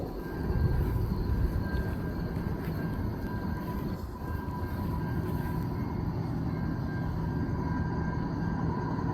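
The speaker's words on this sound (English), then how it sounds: "Train going through." A low, steady rumble of a train passing at a distance at 3:15 a.m., a continuous droning roar with faint higher tones, no voices.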